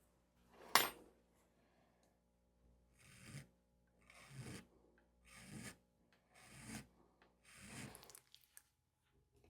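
A file rasps across the repaired stem of a GBD International tobacco pipe: a sharp knock near the start, then five evenly spaced rasping strokes, close and fairly quiet, with short silences between them.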